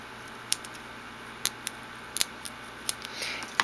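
Scissors snipping paper for punch art, rounding the corners of a small cut piece for a turkey figure: a series of short, light, crisp snips spaced irregularly, close and fairly quiet, with no talking.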